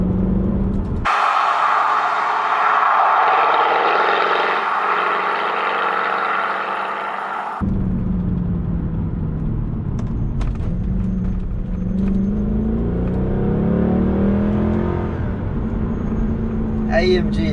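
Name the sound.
Mercedes AMG C63 W204 engine idling and revving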